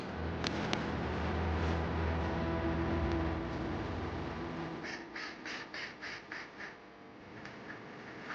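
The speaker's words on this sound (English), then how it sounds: "The ducks! They've arrived." Ducks quack outdoors at dusk, a run of about seven short quacks in quick succession following a stretch of steady background rumble.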